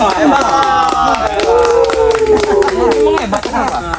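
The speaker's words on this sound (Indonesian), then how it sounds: "Tepuk tanganlah kalian." Several people clap their hands close by in a tight, uneven burst, with loud voices and shouting overlapping the claps throughout.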